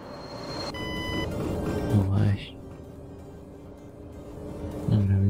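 Wheel slip alarm in the Train Simulator 2021 video game: two short bursts of low, pulsing electronic beeps sound over a steady rumble of train and engine noise, with a brief higher tone earlier.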